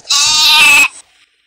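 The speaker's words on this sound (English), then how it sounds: "Hello, sheep." A single loud, close sheep bleat in an online hide-and-seek video game, one sustained wavering cry of nearly a second that ends abruptly and is followed by a brief faint tail.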